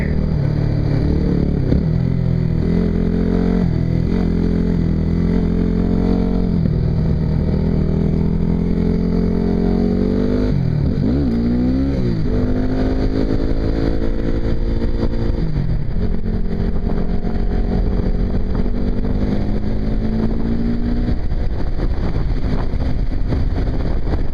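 A Yamaha WR250R motorcycle engine hums steadily on a test ride, its pitch rising and falling as the rider shifts and accelerates, with constant wind buffeting the microphone.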